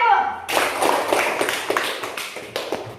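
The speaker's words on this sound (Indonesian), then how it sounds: "Beri tepuk tangan untuk kelompok 1." Classmates clap for a student group in a classroom, a brief burst of scattered, uneven claps starting after a short pause, with voices talking over them.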